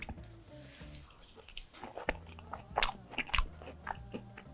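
Crispy baked sweet potato fries, double-dipped in sauce, crunched and chewed close up in several sharp bites with softer chewing between, no talking.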